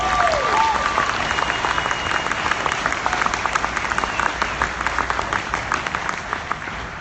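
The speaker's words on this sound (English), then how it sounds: "And give yourself a round of applause." A crowd at a business homecoming event claps for themselves, loud, dense applause sustained for about seven seconds with no speech over it.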